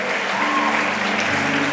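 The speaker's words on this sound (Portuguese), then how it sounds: "Se você toma posse disso, aplauda ao Senhor" A church congregation claps together in a brief, dense burst of applause that fills the room evenly from start to finish.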